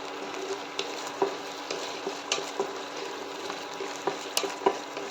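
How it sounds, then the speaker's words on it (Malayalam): Crushed garlic sautés in hot oil in a pan for Kerala garlic chutney, a soft steady sizzle punctuated by regular light taps and scrapes of a spoon stirring, close but fairly quiet. "എണ്ണ ചൂടാവുമ്പോഴേക്കും നമുക്ക് വെളുത്തുള്ളി തട്ടിക്കൊടുക്കാം. ഇനി ഇത് നല്ലപോലെ വഴറ്റാം."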